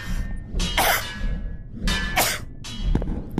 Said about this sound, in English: Coughing fit over.